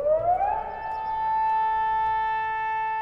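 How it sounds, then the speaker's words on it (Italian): A Bologna sewer workers' siren sounds loud and alone, its tone rising sharply over about half a second and then holding a steady, sustained wail. "La sirena dei fognaioli suona qui oggi per voi per non doverlo fare mai davvero."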